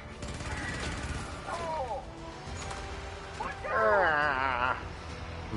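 Turret gunfire crackles in Helldivers amid a chaotic fight, bursts of shots and impacts mixed with explosions and whistling effects while players talk over it.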